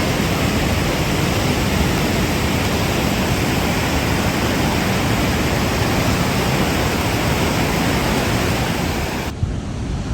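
A river on the Hampta Pass trek rushes steadily beneath a footbridge, filling the air with loud, unbroken broadband water noise from start to finish, close and constant, with no voices.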